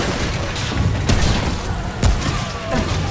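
Gunfire from a weapon with a fire effect in the video game Remnant: a few sharp, heavy shots at about one-second intervals, each a loud boom with a crackle over steady rumbling game noise.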